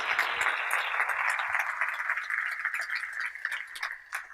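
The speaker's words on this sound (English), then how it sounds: "One more round of applause for that group of Tier" An audience claps steadily at an awards gathering, a dense, sustained round of applause that gradually thins and tapers off over a few seconds.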